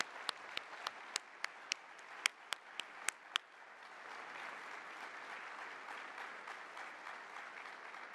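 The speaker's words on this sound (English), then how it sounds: "could we have another round of applause for our speakers this morning?" Audience applause at a plenary session of an annual military medicine meeting, a burst of sharp individual claps at first, then blending into a steady, moderately distant wash of clapping that carries on to the end.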